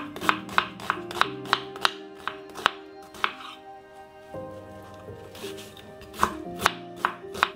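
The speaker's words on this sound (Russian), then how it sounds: "Мелко нарежем лук." An onion finely chopped with a knife on a board, producing quick, steady, close knife taps over a sustained musical background.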